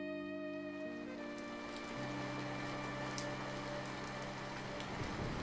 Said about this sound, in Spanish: Esa noche llovía a cántaros, como siempre.